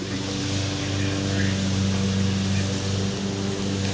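A lawn mower engine running steadily, a loud continuous droning hum with a stable low pitch throughout.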